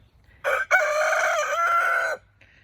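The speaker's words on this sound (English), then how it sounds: "we'll just watch the little chickens enjoy being outside" A rooster crows once, loud and close, in a single long call with a brief clucking note just before it and faint hen clucks afterward.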